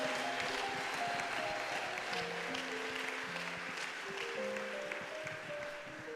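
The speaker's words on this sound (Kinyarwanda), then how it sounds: "Reka dukomere Imana amashyi menshi cyane." Applause from a church worship congregation during a night of praise, steady clapping sustained throughout with music tones and a hum of crowd underneath.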